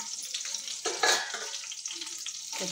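Mustard seeds and cumin frying in a pan for beetroot pachadi, with a steady bright crackling sizzle that swells briefly midway, close and alone without talk.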